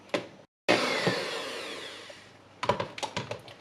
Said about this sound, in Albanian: Dhe do t'i rajmë përsëri me mikser.